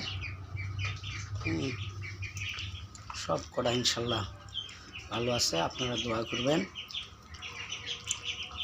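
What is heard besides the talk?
ducklings chirping, 13-14 days old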